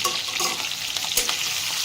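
Stuffed capsicum sizzles steadily as it fries in a pan with curry leaves, a continuous close crackle with no voices.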